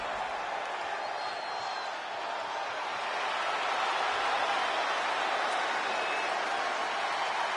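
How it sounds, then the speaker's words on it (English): Steady roar of a crowd cheering in a wrestling video game's arena, a broad wash of noise that holds fairly even and swells a little midway. "The crowd is happy to see his answer."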